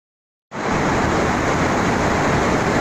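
After half a second of silence, a cold mountain stream, the Chanju Nala in the Chamba Valley, bursts in as a loud, dense, unbroken rush of water close to the listener.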